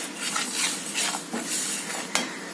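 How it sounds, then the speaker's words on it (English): Dalia and tomato roasting in a pan on a low flame, stirred with a metal spoon that scrapes and clinks against the pan in short strokes, with a faint sizzle underneath. "Now let us roast this till it is golden brown"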